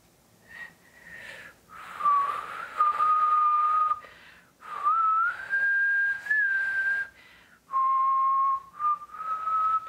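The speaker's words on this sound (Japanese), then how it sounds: "口笛練習してるんですよ、" A person whistling a tune in practice, a series of clear sustained whistled notes in short phrases separated by breaths, close and alone.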